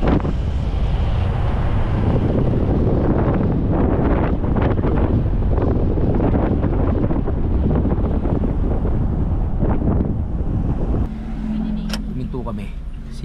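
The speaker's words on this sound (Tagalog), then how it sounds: "Sarap ng hangin." Strong wind buffeting the microphone in a steady, rumbling roar, with voices talking faintly underneath.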